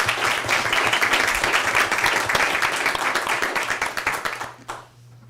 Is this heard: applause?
yes